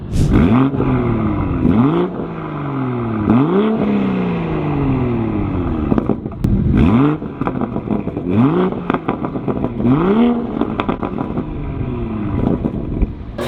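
A BMW M340i engine with a VRSF high-flow catted downpipe revs repeatedly in sharp climbing bursts, each falling back before the next, loud and close with a raspy, throaty exhaust note.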